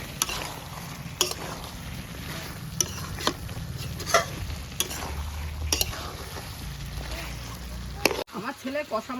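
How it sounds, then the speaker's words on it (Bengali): A spoon stirring fried spice mix into chicken masala in a pot, soft continuous sizzling broken by repeated scraping clicks of the utensil against the pan, with a brief clatter near the end. "ভাজা মশলাটা এবার দিয়ে দিলাম।"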